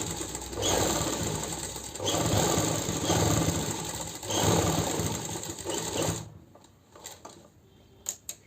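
A sewing machine stitches a coat-style collar on a kurti, running loud and steady for about six seconds with a rhythmic mechanical whir, then stopping into a few quiet clicks.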